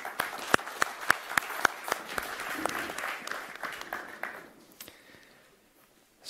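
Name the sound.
audience applause for conference speakers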